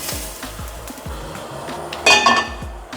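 Boiled julienned carrots and mushrooms are tipped out of a metal pot to strain. Repeated clanks and knocks of the pot and utensils come first, followed by a brief rush of water and clatter near the end.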